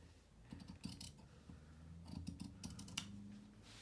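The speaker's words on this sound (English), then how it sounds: "Just cut through that facing, sliding my scissors in." Scissors snip through fabric facing while sewing a pocket, a few quiet close crunching cuts in short irregular bursts.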